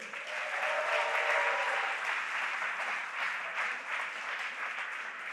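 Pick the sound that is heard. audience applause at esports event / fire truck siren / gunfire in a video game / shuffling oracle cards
audience applause at esports event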